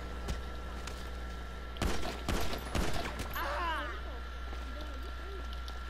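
Bursts of gunfire in the video game GTA 5: a few separate shots, then a cluster of three loud bursts in quick succession, with a voice speaking afterward over steady background hum.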